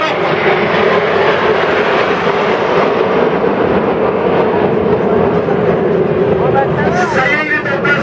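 Patrouille de France jets roaring steadily overhead in aerobatic formation at the 2012 Roanne international air show, a continuous loud engine wash with a commentator talking over it throughout.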